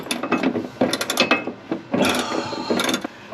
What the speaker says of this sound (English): I'll just torque this down.